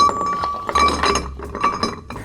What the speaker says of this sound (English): we'll start by filling the glass with some ice